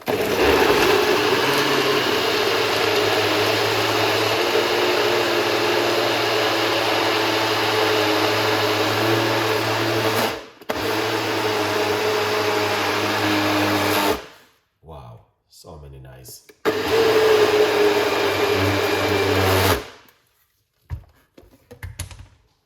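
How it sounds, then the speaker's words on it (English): A Ninja blender whirs loudly and steadily for about fourteen seconds while blending pineapple and ginger juice, then stops and restarts in short bursts with pauses; a person speaks briefly over it. "That is a Ninja blender. It blends it very quick."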